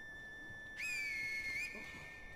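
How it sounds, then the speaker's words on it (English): Finger whistle in the video game Sekiro: Shadows Die Twice, a single sharp, piercing whistle rising quickly and holding steady for about a second before stopping abruptly, alone over quiet background. "I probably should have learned about this finger whistle earlier"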